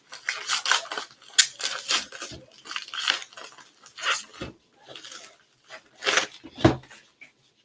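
A package is torn open and handled up close, with a series of crinkling, tearing and rustling bursts in an irregular rhythm, moderately loud, with no talking over it.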